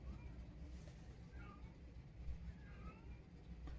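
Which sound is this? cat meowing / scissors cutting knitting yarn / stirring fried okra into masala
cat meowing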